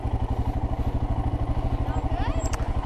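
A motorcycle runs on a rural backroad, its engine putting out a steady rapid pulsing thrum that stays loud and close throughout.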